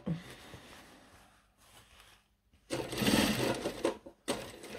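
A sewing machine stitches trousers in short bursts, quiet at first and then running louder and faster in rapid rattling runs with brief pauses between.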